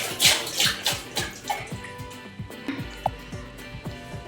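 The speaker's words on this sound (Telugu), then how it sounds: "చలో చికెన్ అయితే నీట్గా కడిగేసిన" Raw chicken pieces washed by hand in water in a home kitchen, with sloshing splashes and steady water running close by, alone with no talk.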